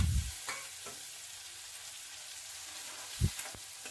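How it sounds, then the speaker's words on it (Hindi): Chopped tomato frying in a pan, a steady faint sizzle with a low thud at the start and a couple of sharp spoon scrapes or knocks near the end. "हम उसमें ऐड करेंगे बारीक चॉप किया हुआ टमाटर और उसे भी हल्का हल्का भूनेंगे"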